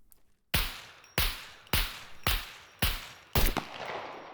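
Six suppressed gunshots from an improvised suppressor in the video game SCUM, fired one at a time at a steady pace roughly every half second, each a sharp crack with a short decaying tail, heard alone and fairly close.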